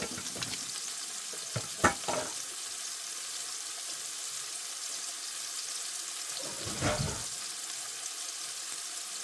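Shrimp stir-fried noodles sizzle in a pan: a steady, bright frying hiss runs throughout, with a few soft stirring scrapes and clatters near the start and again toward the end.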